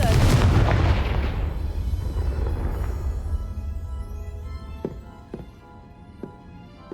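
A Confringo blasting curse in Hogwarts Legacy goes off as a loud, booming explosion that decays into a rumbling tail, followed by several sharp, softer cracks.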